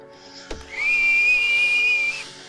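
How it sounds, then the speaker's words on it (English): A high-pitched, steady whistle comes from a trapdoor as a tabletop game sound effect, rising after a short knock and holding loud for over a second before cutting off. "from the trapdoor you hear this high-pitched whistle"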